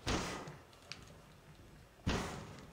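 Two heavy thuds of a door being bashed in Splinter Cell Blacklist, each a loud, close impact with a short rumbling decay, separated by about two seconds, with a faint knock between.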